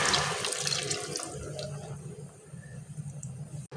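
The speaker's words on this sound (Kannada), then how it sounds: "ಅದಕ್ಕೆ 2 ಬಟ್ಲಷ್ಟು ನೀರು ಹಾಕ್ಕೊಳ್ಳಿ." Water splashes and gurgles steadily as it is poured into rice in a pot for vegetable pulao, a close, continuous pour that tapers off at the end.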